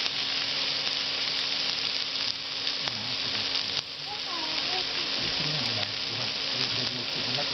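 Pieces of raw banana fry in oil over a very low flame, giving a dense, steady sizzle that is close and fairly loud, with a few stirring clinks and brief scraping sounds in between.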